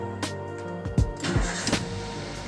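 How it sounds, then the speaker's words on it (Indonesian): A Toyota Avanza engine cranks and starts, a close mechanical whirring and chugging that builds into a steady running rumble over a couple of seconds. "coba kita starter"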